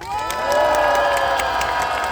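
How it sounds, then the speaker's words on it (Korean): Crowd at a political rally in Yeongdeungpo for the Democratic Party leader erupts in loud cheering and applause, a dense sustained roar with shouts and whoops, close and full for the whole couple of seconds. "큰 박수 한번 보내주십시오."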